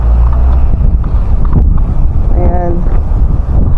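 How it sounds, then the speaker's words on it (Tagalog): Wind buffets the microphone outdoors in the Czech Republic, a steady loud low rumble throughout, with a person talking over it and a brief higher tonal sound midway. "mahangin ngayon"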